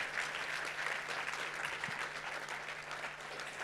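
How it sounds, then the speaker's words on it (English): A crowd at a keynote talk claps steadily, a dense wash of applause that holds at an even level throughout without any cheering standing out. "Big round of applause once again."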